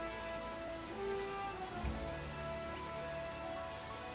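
Rain falls steadily in the Mega Mon video game, a constant soft hiss of drops with no voices over it.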